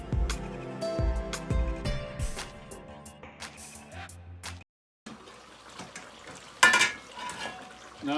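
A metal spoon scrapes and clinks in a pan as mutton and okra curry is stirred over gas, with soft sizzling, rhythmic knocks at first, a brief pause, then wetter stirring and a sharp clatter.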